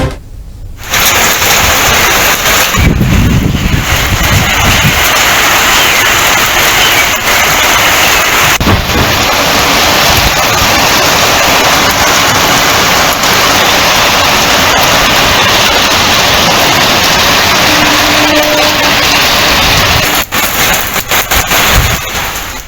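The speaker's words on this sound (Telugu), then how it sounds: "హైదరాబాద్ లో పలు చోట్ల భారీ వర్షం కురుస్తోంది." Heavy rain falling across Hyderabad city, a dense, loud, continuous hiss and roar of downpour with occasional sharper bursts, steady throughout with no voices.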